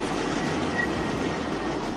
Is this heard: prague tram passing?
yes